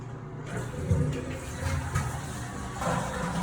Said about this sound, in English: Checked for hot water and the toilet flush.